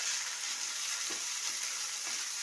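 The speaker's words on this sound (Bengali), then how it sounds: "এখন আমি একটু এই তেলের সঙ্গে এই মশলাগুলোর সঙ্গে ভালো করে" Ground pea pod paste frying with spices in hot oil, a dense, even, bright sizzle heard close up and continuous throughout, with faint stirring scrapes and no voices.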